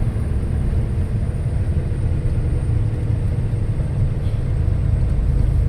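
Leyland truck engine labouring up a hill in fourth gear on the Thoppur ghat road, a steady low droning rumble that holds loud and unbroken throughout with no talk.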